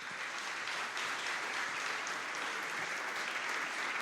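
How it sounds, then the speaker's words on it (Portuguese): A church congregation at a family worship service applauds in a steady, dense wash of clapping that holds level throughout, heard from a little distance with no distinct voices. "as palmas louvam o nome do Senhor."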